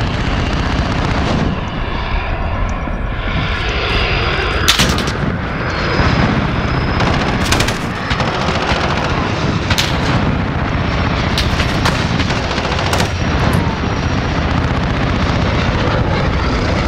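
A jet roars overhead in a Call of Duty Search and Destroy match, a loud continuous engine rumble mixed with repeated sharp gunfire and explosion bursts throughout, no talk.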